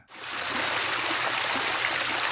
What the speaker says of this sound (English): It's so peaceful, the water flowing